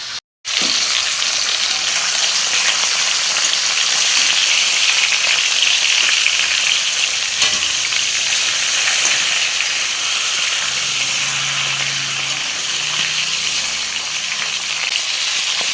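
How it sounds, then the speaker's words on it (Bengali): Fish fries in a pan with a loud, continuous crackling sizzle that holds steady throughout, with occasional soft clinks and stirring noises but no talking. "আমি আগে মাছটা ভেজে নিই"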